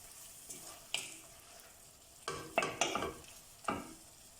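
Carrots stewing in a pan for millet kulish, a quiet sizzle punctuated by several sharp clacking stirs of a utensil against the pan, clustered toward the middle and end.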